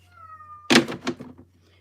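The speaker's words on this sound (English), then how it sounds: "Hello, Mr. Kitty. No, I'm not letting you out." A single short cat meow close by, followed by a soft thump or two.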